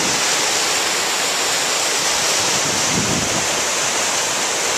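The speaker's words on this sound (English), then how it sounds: "Down below, the raging torrent," The Mud River rushes as a raging torrent beneath a bridge, a loud, unbroken roar of churning water with wind buffeting the microphone throughout.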